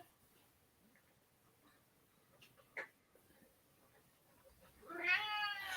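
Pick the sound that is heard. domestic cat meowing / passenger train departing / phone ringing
domestic cat meowing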